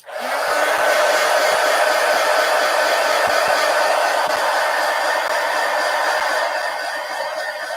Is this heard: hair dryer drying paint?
yes